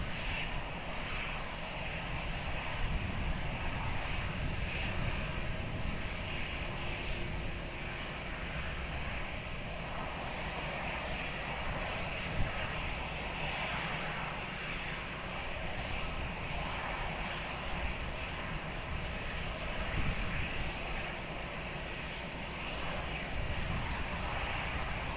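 An aircraft landing on runway 20 at Lisbon Airport, a steady distant engine roar that holds level for the whole stretch without a clear peak or fade.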